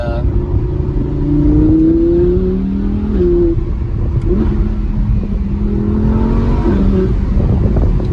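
A naturally aspirated Audi R8 V10 engine of 610 hp revs hard at close range, its loud, throaty note climbing and falling in several surges with brief dips between pulls.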